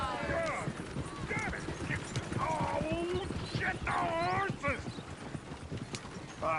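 Horse hooves clip-clop steadily in the video game Red Dead Redemption 2, with occasional whinnies from the horse and quiet speech in the background.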